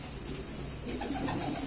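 Pigeons coo at a Gaziantep coffeehouse where the birds are sold, a steady low murmur of calls set amid a dense, noisy indoor din without clear talk.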